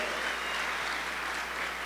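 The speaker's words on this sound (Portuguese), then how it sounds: "Pode aplaudir a Jesus." Applause from a church congregation during a worship service, a steady, dense wash of many hands clapping at moderate volume for the full two seconds, with no voices standing out.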